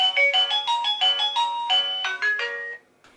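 A wireless driveway motion alarm receiver chimes a bright electronic melody of quick, evenly paced tones that runs for nearly three seconds before cutting off, loud and alone with no talk.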